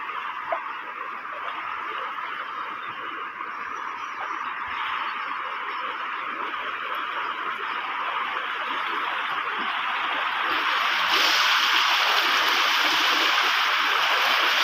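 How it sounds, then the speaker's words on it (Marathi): Strong rain-swollen stream rushing along after heavy downpours, a continuous broad roar of flowing water that swells slightly louder toward the end, with someone talking over it. "ह्या साईडने पण भरपूर पाणी वाहता"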